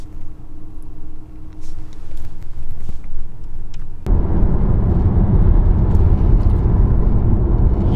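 Cupra Born electric car cruising along the E6 road, a steady low road and tyre rumble that grows louder and denser about halfway through, with no talk over it.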